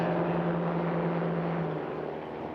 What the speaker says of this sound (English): also running the Yamaha Sidewinder 998 turbo snowmobile engine. Listen to that.